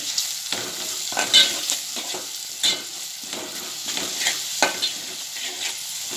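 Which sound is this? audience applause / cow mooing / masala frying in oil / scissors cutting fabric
masala frying in oil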